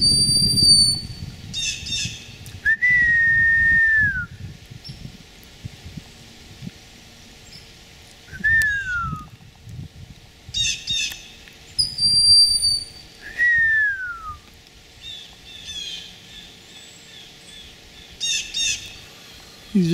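A hawk gives several piercing, descending squawking calls in an outdoor camp setting, each call repeated at intervals over a steady rustling background, fairly loud and close overhead.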